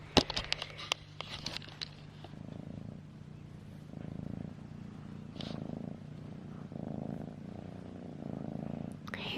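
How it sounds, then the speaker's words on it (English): A cat purring close up, soft rhythmic rumbling cycles with each breath, preceded by some brief clicks and handling noises, quiet and steady. "Hear that purring?"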